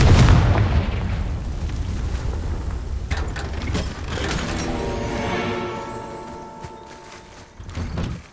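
A Confringo spell blast in Hogwarts Legacy goes off in a loud, deep explosive boom at the start. Crackling debris and mechanical rumbles follow, then a ringing tonal tail and a second thump near the end.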